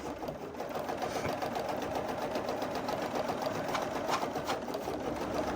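An embroidery sewing machine stitching a basting box around the hoop, a continuous fast mechanical whir with rapid even needle strokes, close by and moderately quiet, with no talking.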